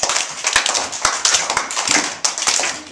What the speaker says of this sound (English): So do you want to clap me and do a little dance?